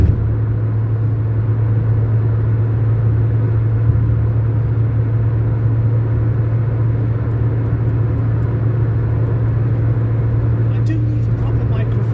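Constant low rumble of tyres on the road and wind noise, steady and loud throughout, heard from inside a moving car.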